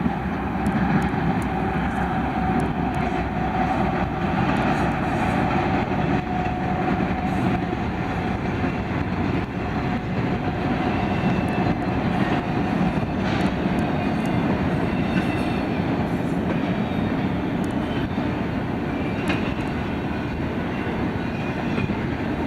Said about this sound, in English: The first train we would see is an extra ZGTLT with UP 7090 leading.